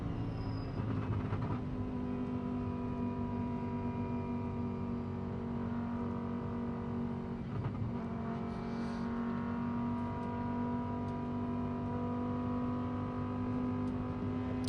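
A GT race car at the FIA GT World Cup qualifying at the Macau Grand Prix, with a steady engine drone and whirring tones running throughout, heard at a moderate distance without any voices.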